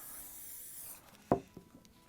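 An aerosol can of extra firm hold hairspray hisses steadily onto model railway grass for about a second, then cuts off, followed by a sharp nearby knock and a few faint rustles.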